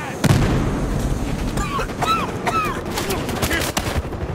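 Gunfire and explosive booms from the Battlefield Hardline Blood Money game mode, a busy ongoing fusillade with sharp cracks and dense rumble, with game voices and effects mixed in.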